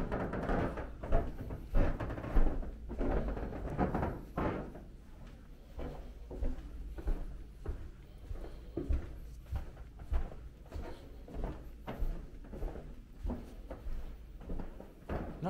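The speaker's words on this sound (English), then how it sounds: "these floorboards are really creaky." Creaky floorboards in a new Hampton by Hilton hotel near London Gatwick Airport, with repeated creaks and knocks from footsteps walking across the floor, close and fairly steady.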